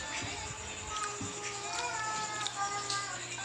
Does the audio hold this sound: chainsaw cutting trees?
no